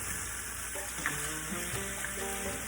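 Chicken stir-fry frying in hot oil, a steady close sizzle and crackle with small pops and faint stirring scrapes throughout, no talking.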